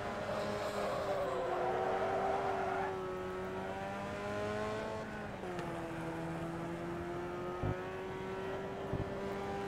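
Race car engines roar continuously in the Wreckfest demolition-racing game on Xbox One X, a close, loud engine tone that holds steady, dips and rises again, with a couple of brief knocks late on.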